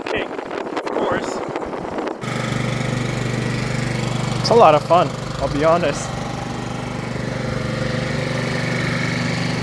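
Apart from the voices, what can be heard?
moped scooter engine while riding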